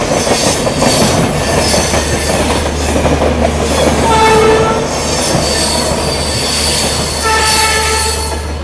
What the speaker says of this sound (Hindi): फास्टेस्ट भोपाल शताब्दी, भोपाल शताब्दी जाने वाली 160 किलोमीटर